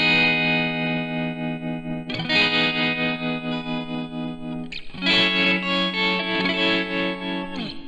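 An electric guitar plays through a Walrus Audio Janus tremolo and fuzz pedal, giving sustained chords with a pulsing, warbling effect. The chord changes twice, and the tone is loud and continuous with no talking.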